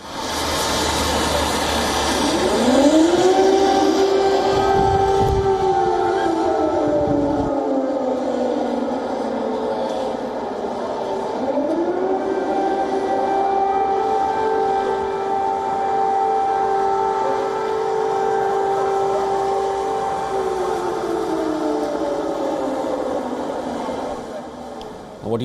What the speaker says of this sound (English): What you just heard are air raid sirens sounding in Kiev just ahead of ringing in the new year.